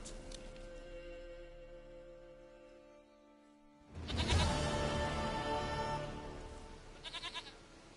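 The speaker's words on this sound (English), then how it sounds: "Goat of mine, dearest," A goat bleats in The Witcher 3, with a loud, wavering bleat rising after a quiet musical stretch and a short rapid trill of bleats near the end, heard alone without talk.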